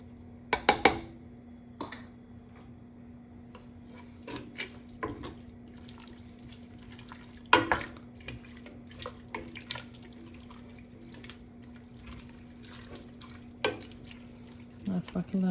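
Hot water is poured into a pot of vegetable soup with an Asian flavour, a faint trickle beneath a steady hum, broken by scattered clinks and knocks of utensils.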